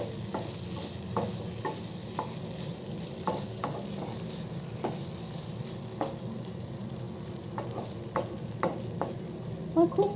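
Potato, pea and homemade paneer curry mixture frying in a pan, a steady close sizzle punctuated by irregular clinks and scrapes of stirring.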